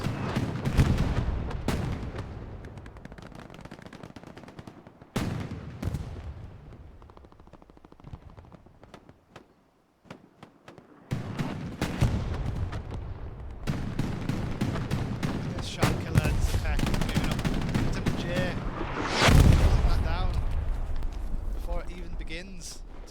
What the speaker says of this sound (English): Axis shelling down onto Edge Thomas